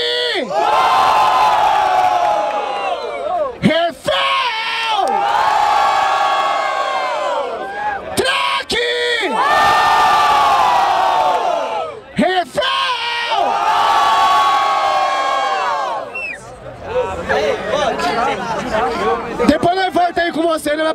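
A rap battle crowd cheers and shouts in loud, sustained waves of roaring voices, with brief dips between bursts and scattered whoops and yells as the noise fades near the end.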